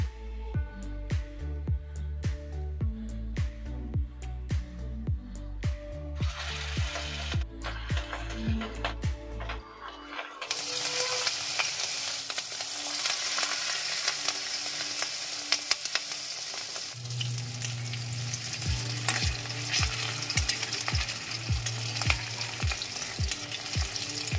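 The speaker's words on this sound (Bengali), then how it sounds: "তেলটা কিন্তু বেশ ভালো করে গরম করে বড়াগুলো ছাড়তে হবে" Large fish roe fritters fry in hot oil with a loud, steady broadband hiss and crackle. Tonal music plays over the first half, and low rhythmic thumps join toward the end.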